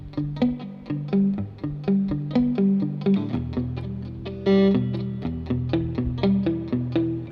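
Electric guitar through a tube amp with real spring reverb, a quick run of plucked, slightly driven notes and chords in a bouncing rhythm, each attack trailing into a short airy wash, close and alone.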